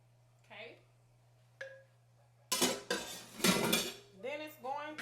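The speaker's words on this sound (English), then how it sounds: "Just give it a stir." Cabbage and bacon being stirred in a pot on a stovetop, with a few soft early clinks followed by loud, busy scraping and clattering of a spoon against the metal pot, close up and alone.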